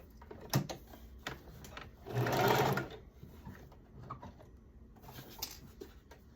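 A sewing machine runs briefly along a pinned skirt seam, a short close whir of under a second amid light handling clicks and taps.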